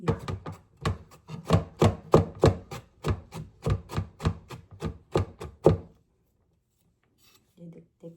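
Garlic cloves pounded for a turkey dish, a rapid run of roughly twenty sharp, close thuds in steady rhythm that stops abruptly, followed by a brief moment of quiet speech.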